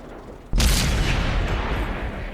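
A derp gun on a T49 tank fires in World of Tanks, one loud sudden boom followed by a long rumbling decay, heard alone.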